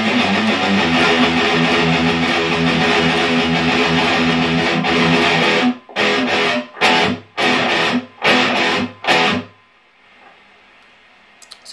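Distorted electric guitar run through an MXR Smartgate noise gate: a loud sustained chord passage, then five sharp stabs that each cut off cleanly to near silence, leaving only a faint low residue at the end.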